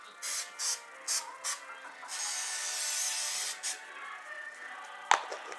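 Several short hissing bursts of cooking spray onto a baking pan for banana bread, then a longer continuous spray, close up, followed by a light clatter.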